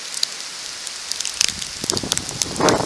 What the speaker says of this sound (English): It's hailing out.